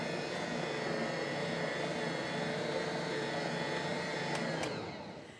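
A stand mixer whirs steadily as it briefly mixes bread dough of freshly milled flour and warm milk, a loud continuous motor drone that winds down and stops at the end.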